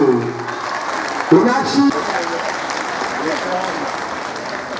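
Audience applause at a government girls' senior secondary school prize announcement, loud sustained clapping from a crowd that swells briefly, with a voice speaking over it near the start.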